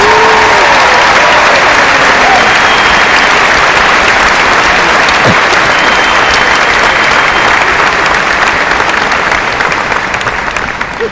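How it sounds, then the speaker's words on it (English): Loud, sustained applause from a large graduation ceremony crowd honoring parents, a dense continuous wall of clapping that holds steady throughout with no talk over it. "So can we give a big round of applause for parents?"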